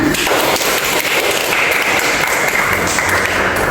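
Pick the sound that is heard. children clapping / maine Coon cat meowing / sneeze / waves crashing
children clapping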